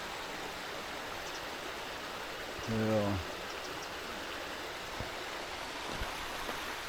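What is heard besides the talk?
Vilsa stream waterfall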